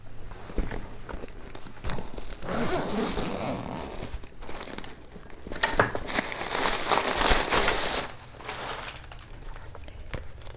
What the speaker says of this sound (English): The zipper closure, it has a double zipper.